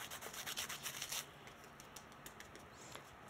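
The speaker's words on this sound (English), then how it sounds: "And there again, you can do a little bit of burnishing." Burnishing paper on a split-channel greeting card: a quick run of close, soft rubbing strokes, then quieter scattered brushing and light handling sounds.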